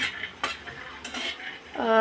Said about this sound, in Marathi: मी इथे थोडेसे भाजून घेत आहे